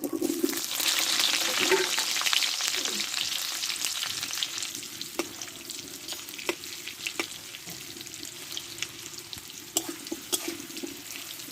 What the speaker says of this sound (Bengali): এই তেলে আমি আলুগুলো ভেজে নেবো